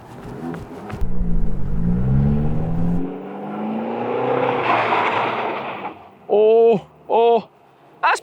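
A Fiat 595 Abarth hatchback is pulled through a handbrake turn, its engine revving and droning for several seconds with a whirring slide, followed by short sharp engine blips; people talk nearby at the start.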